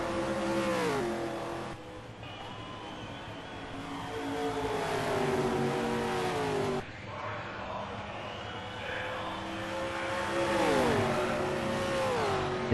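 Touring race cars at full speed on the Pukekohe circuit, engines roaring and revving as they sweep past one after another with rising and falling pitch, loud and continuous, with a commentator talking over them.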